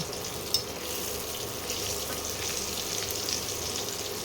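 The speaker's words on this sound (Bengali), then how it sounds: "সামান্য একটু আলুগুলোকে ভেজে নেব" Potatoes frying in a pan for dum aloo, a steady even sizzle that holds throughout, with one small clink near the start.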